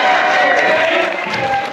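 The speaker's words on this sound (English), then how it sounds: "So a big cheer for Graham Fox, please" A crowd at a Christmas party cheers loudly, a sustained swell of voices and whoops that holds steady and fades slightly toward the end.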